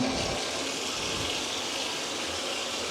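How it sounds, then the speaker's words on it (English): Bathroom taps in a newly built Kenyan apartment are turned on, and water runs in a steady, even hiss throughout at moderate volume, with no voices. "So when you come in the bathroom, turn all the water on."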